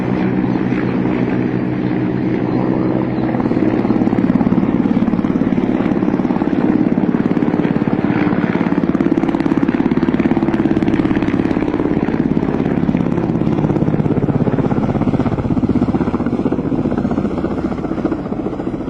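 A Russian military attack helicopter flies overhead, its loud, steady rotor and turbine roar continuous and close, with wind buffeting the microphone throughout.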